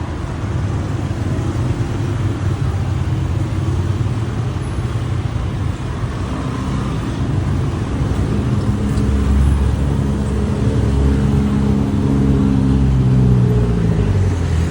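Cars and other road vehicles pass steadily along a busy street on Koh Samui, Thailand, a loud, continuous traffic rumble with engines swelling as vehicles go by close to the listener.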